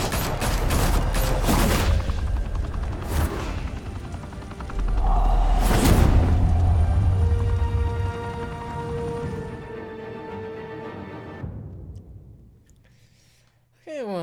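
Bursts of gunfire and booming blasts from Batman: The Telltale Series, several sharp loud shots in the first seconds followed by a heavy rumble that gradually fades, with game characters talking over parts of it.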